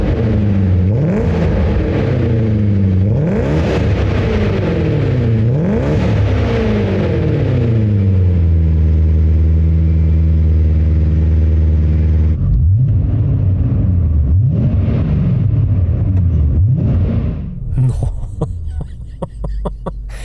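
A 2001 BMW E39 M5 converted to run on E85 ethanol, its engine blipped through several loud rising revs from idle, settling into a steady idle, then revved repeatedly again near the end.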